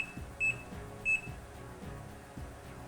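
A kitchen timer gives two short, high, clean beeps while being set for blanching vegetables. Quiet room noise sits between the beeps.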